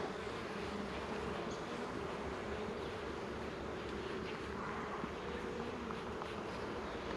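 Honey bees swarm thickly around an open hive during a fall inspection, making a dense, steady, close buzzing drone that stays constant throughout without pauses or voices.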